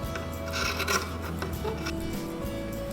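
Scissors cut through quilting fabric pieces for a reversible quilted table runner. The snipping is soft and rasping, with a few brief strokes close by and no talking.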